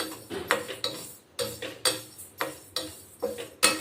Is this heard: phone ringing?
no